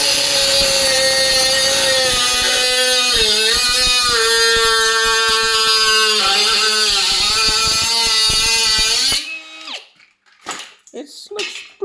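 HILDA mini 3-inch brushless angle grinder cutting roughly 2 mm metal of old grass clippers: a loud, high whining grind with pitch dips under load for about nine seconds, then it cuts off, leaving faint scattered knocks.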